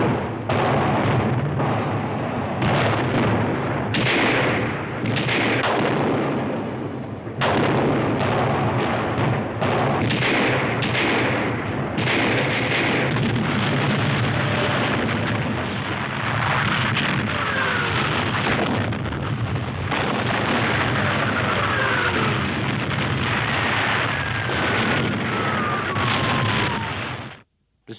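A reconstructed World War I artillery bombardment at Verdun, with repeated deep thuds and booms rolling over a steady rumbling roar, loud and sustained throughout before cutting off at the end.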